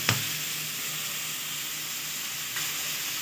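Egg chow mein sizzles steadily in a hot pan, with a dense, even frying hiss throughout, a small clatter at the start and a slight swell near the end.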